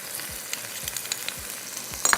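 Salt and turmeric powder frying in hot oil in a cooking pan for a tarka, a steady close sizzle with occasional soft stirring scrapes and small pops, with no talking.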